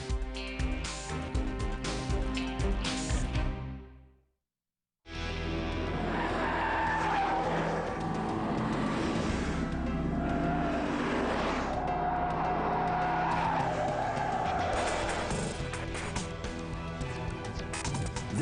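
Car tires squeal and skid loudly during a Michelin braking test from 31 km/h on a track, a sustained screech broken by a brief silence before more skidding resumes.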